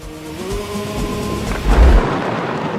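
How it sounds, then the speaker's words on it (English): Low thunder rumbles from an approaching storm, building to a deep, heavy roll near the end of the short stretch, with no voices present. "Storm is coming."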